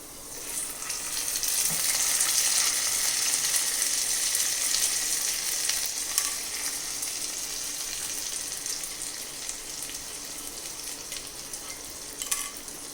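Fried coconut pieces stirred into banana payasam (pazham pradhaman) with ghee and cardamom, giving a steady close sizzle and soft stirring scrapes throughout, with no talking.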